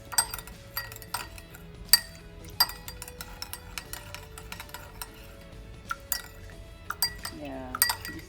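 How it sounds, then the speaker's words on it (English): Peanuts tossed with spices in a bowl, giving repeated light clinks and scrapes of a utensil against the dish in an irregular rhythm, close and fairly crisp, with a short rattling flourish near the end. "Give it a good mix."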